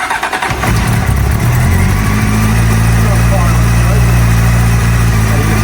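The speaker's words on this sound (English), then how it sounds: "when you go to start it up, it starts on the choke" A cold Honda Hornet CB600 motorbike cranks with a brief starter whir, then catches on choke and settles into a loud, steady, slightly uneven idle close by in a garage.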